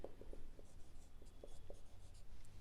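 A pen writes by hand on paper while working a maths problem on the area of a triangle, with faint scratchy strokes in short bursts, close but quiet, over low background noise.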